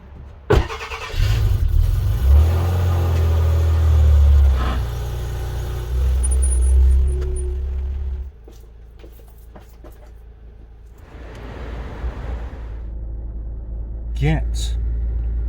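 A Rover 75 car engine starting and idling to warm up, running without its front grill, with a deep low rumble that is loud at first, then a steadier, quieter idle and a few clicks and knocks nearby.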